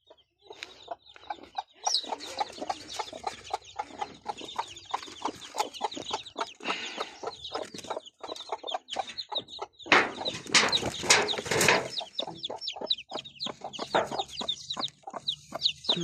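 Chickens cluck steadily and close by, many short rapid calls overlapping throughout, with a louder flurry of clucking and wing flapping midway, no talk.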